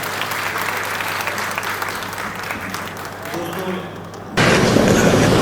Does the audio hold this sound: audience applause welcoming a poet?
yes